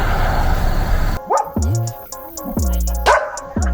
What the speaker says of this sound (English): Aw, cute doggies.